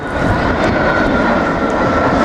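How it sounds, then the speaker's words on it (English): Boeing 757 jet of the Royal New Zealand Air Force making a slow, low display pass with flaps and landing gear down, a loud, steady broadband engine roar sustained throughout without any talk. "This next pass is a low pass with flap and gear again."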